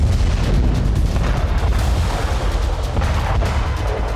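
A bomb dropped on a secret site on the outskirts of Tehran produces a heavy, continuous rumbling roar with scattered thuds, loud throughout and without voices.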